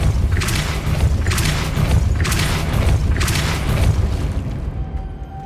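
Depulso spell cast in the Hogwarts Legacy video game, heard as a series of deep booming thumps with bursts of noise at a steady beat, loud and close, no talk.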